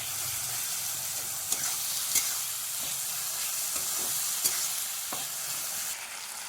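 Spiced potato filling frying and being stirred in a pan, a steady bright sizzle with soft scraping strokes and a few light clicks of the spoon, close and continuous.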